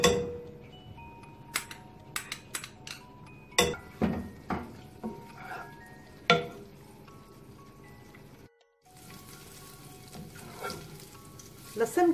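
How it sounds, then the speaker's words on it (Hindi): Garlic cloves sizzle in oil in a non-stick pot over a medium flame, a steady close frying hiss broken by sharp clinks and scrapes of a spoon stirring against the pot, with a brief pause near the end. "लहसुन के जवे इसमें ऐड करूंगी, इसको लाइट गोल्डन करूंगी"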